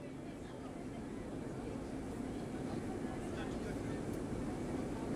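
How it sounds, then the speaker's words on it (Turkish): Airplane cabin noise after takeoff, a steady low droning engine rumble filling the clip, close and continuous, with a voice faintly present beneath. "uçağımız havalanmış bulunmaktadır"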